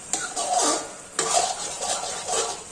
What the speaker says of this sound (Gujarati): ખાંડ છે તેને આપણે ધીરે ધીરે આ મિશ્રણમાં એડ કરી દેશું. આવી રીતના મિક્સ કરતા જવાનું છે એકદમ સરસ રીતના.